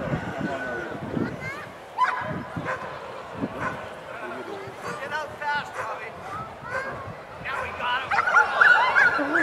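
A Border Collie at a fall fair sheep-herding event yips, whimpers and barks excitedly in short bursts, with people talking over and between the sounds nearby.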